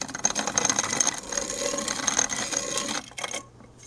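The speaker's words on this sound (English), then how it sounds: "give it a little grind" A hand-cranked manual piston ring grinder files the end of a ring in a fast, rough, ratcheting rasp that runs steadily for about three seconds, close up, then stops.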